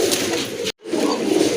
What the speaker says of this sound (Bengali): মাশাআল্লাহ আরেক জোড়া কবুতর দেখেন, লোটন কবুতর, ইন্ডিয়ান লোটন কবুতর